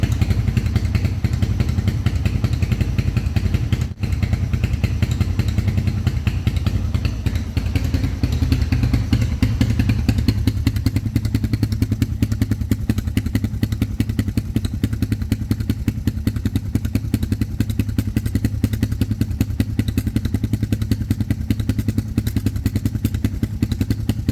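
A motorcycle fitted with a dB killer in its muffler idles and revs with a deep, rumbling exhaust note and fast steady pulsing, loud and close, with one brief thump early on.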